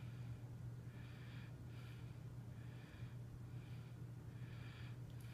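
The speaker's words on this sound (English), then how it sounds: "Take a deep breath" Slow, deep breaths in and out from a patient during a chest exam, heard close as a rhythmic airy rush repeating several times over a steady low hum.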